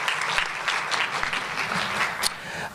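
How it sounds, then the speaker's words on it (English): Audience at a public schools forum panel gives a round of applause: a steady patter of many hands, moderately loud, with a few louder individual claps near the end. "let's give her a round of applause."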